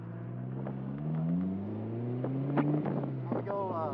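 A car engine revs gently at light throttle, its rising harmonic tone climbing steadily over a few seconds, close and moderately loud, with wind buffeting and occasional voices.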